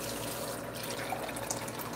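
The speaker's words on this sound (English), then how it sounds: "fill it up with water" Tap water runs steadily into a cup, close and continuous for a couple of seconds with no talk.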